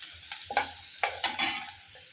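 Cashews are tossed with softened onion and garlic in a pan for mushroom soup, a soft sizzle broken by a few sharp stirring scrapes and clacks close by.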